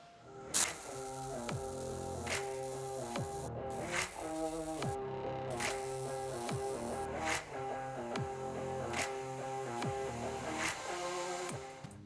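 A welder lays a repair onto a Toyota FJ45 frame, giving a faint, steady crackling buzz broken by brief pauses and sharper pops, with no one speaking.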